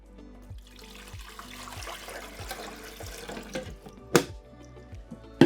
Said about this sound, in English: First thing we're going to do is fill up our water tank.